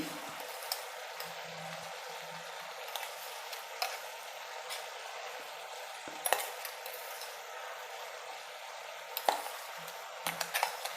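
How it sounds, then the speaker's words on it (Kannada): Masala peanuts tipped into a pan and stirred while cooking a bottle gourd gojju: soft, steady sizzling under scattered scrapes and light metallic clinks of a spoon, fairly quiet and close. "ನಾನು ಖಾರದ ಕಳೆ ಬೀಜನ ಈಗ ಹಾಕ್ತಾಯಿದ್ದೀನಿ"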